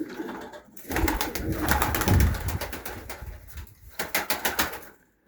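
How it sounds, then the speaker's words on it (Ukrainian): Several pigeons coo in a loft full of young birds, with soft repeated throaty calls close by and some rustling and wing movement around them, and no talking. "вже скільки голубеня, вже немає їх куди дівати"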